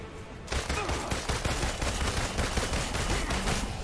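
Gunfire breaks out in the Marvel's Avengers beta game after a quiet half second, a dense run of rapid shots rattling steadily at moderate volume.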